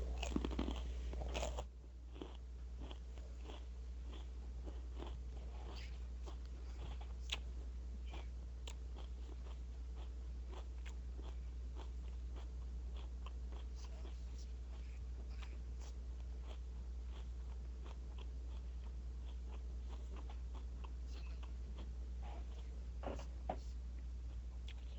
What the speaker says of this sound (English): I'm literally just eating cucumbers and celery.